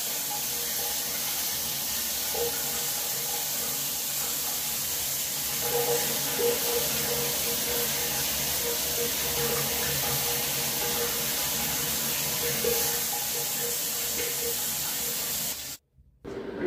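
Shower water runs in a steady, close hiss of spray that barely changes, then cuts off abruptly near the end.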